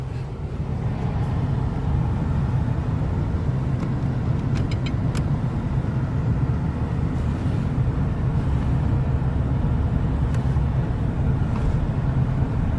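A 1981 Cadillac Coupe DeVille cruising around the block, its steady, smooth engine and road rumble continuous and close from start to finish, with a few faint clicks above it and no talk.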